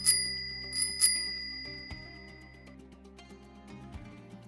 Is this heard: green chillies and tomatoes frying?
no